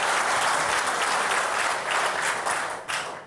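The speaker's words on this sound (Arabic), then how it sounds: "صفقوا" Loud, dense crowd applause that fills the whole short stretch, a continuous wash of many hands clapping close by with a brief dip near the end.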